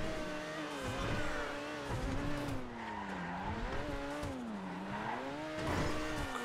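An Overflod Entity MT supercar in GTA 5 slides with long wavering tire squeals rising and falling over a droning engine, continuous and fairly close with no talk.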